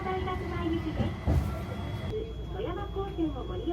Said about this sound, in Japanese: 環状線を走るセントラム。